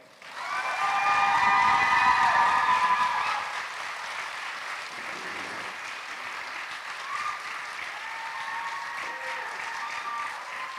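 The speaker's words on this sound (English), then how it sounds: "if you'll all give me a big round of applause" A convention audience breaks into applause, loud and sustained at first, then settling into steadier, slightly softer clapping with a few cheers mixed in.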